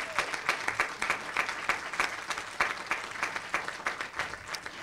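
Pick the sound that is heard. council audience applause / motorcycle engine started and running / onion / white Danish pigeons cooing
council audience applause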